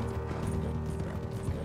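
A horse gallops in Red Dead Redemption 2, its hooves thudding in a fast, steady rhythm beneath a constant wash of game ambience at moderate volume.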